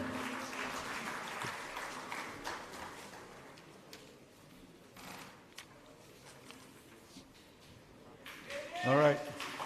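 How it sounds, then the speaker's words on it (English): An audience at the Semicon India 2022 conference applauds to welcome a speaker. The dense clapping is strongest at first, thins and fades, with a voice speaking over it near the end. "let's give a round of applause and welcome Mr."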